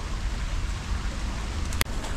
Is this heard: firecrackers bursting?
no